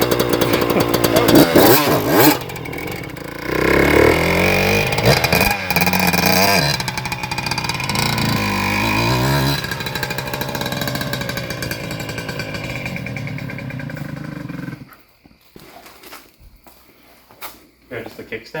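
Suzuki RM125 two-stroke dirt bike engine running after a rebuild: a loud, raspy revving with rising and falling pitch for about fifteen seconds, then cutting out, with people talking nearby.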